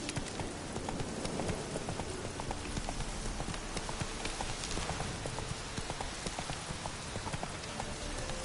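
Hooves of Roach, a horse in a video game, clip-clop steadily and evenly throughout over a constant rain-like wash of ambient noise, with no talking.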